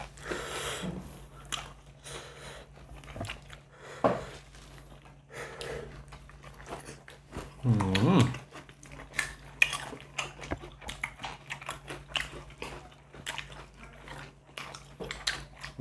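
Someone eats a raw beef and liver dish with crunchy fresh vegetables, making soft, close biting and chewing sounds with occasional utensil clinks, all fairly quiet, with one louder crunchy bite near the middle.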